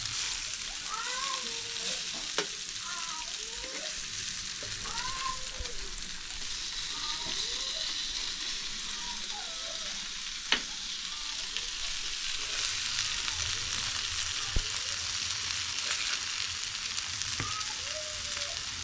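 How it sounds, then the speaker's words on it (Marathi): Fish fries in a pan outdoors and is turned over piece by piece, giving a continuous bright sizzle with occasional clinks of handling, while birds chirp steadily in the background. "आता बघा आली ना मच्छी एक एक करून पलटी करते."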